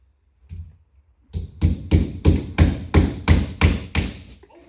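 Nails are hammered while an exterior window is being installed: one soft knock, then a run of about nine sharp, evenly spaced hammer blows, close and loud.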